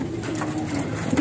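Pigeons in an Indonesian high-flying pigeon setting in Pekalongan, with soft repeated cooing over a steady outdoor bed of rustling and faint wing noise, fairly close throughout.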